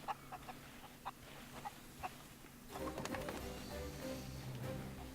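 Chickens clucking in the pirate video game Sea of Thieves, a string of short, faint clucks over the first two seconds before a louder, busier bed of game ambience takes over.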